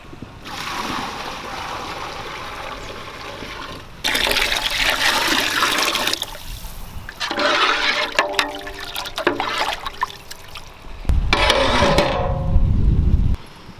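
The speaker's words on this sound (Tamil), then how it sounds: "தண்ணி சேர்த்திலப்பா." Water poured into a pot of tilapia fish curry already seasoned with coriander powder, turmeric and salt: several loud gushing, splashing bursts of a few seconds each, separated by quieter bubbling gaps, with no talking.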